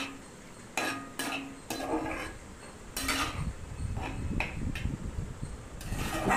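A spoon stirs drumstick curry with red chili powder in a metal pot, scraping and clinking against the sides in irregular strokes, close and moderately loud, with a steady background hum.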